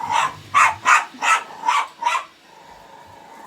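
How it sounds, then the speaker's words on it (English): A dog barking at a running hoover: six loud, close barks in a steady rhythm, then a quiet hum of the vacuum. "She doesn't like the hoover. Even if it's on just anywhere in the house, she just barks."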